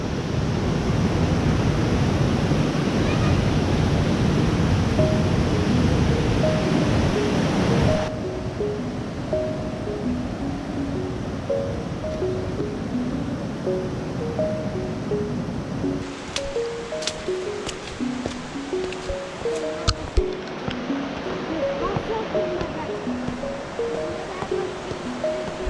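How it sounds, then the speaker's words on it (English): A waterfall rushes in the Great Smoky Mountains among cliffs, a dense, steady broadband roar that is loud and close at first, then continues more softly as a constant wash of falling water. "Just look at that waterfall."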